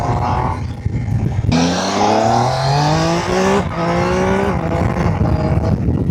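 A Triumph motorcycle accelerating hard, its engine note climbing steeply through gears with a brief drop at a shift, loud and close with steady wind roar.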